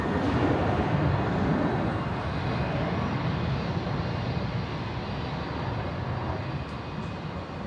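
A Qantas jet airliner rolls for takeoff at Brisbane airport, a broad, steady distant engine roar that swells slightly, then eases as it continues.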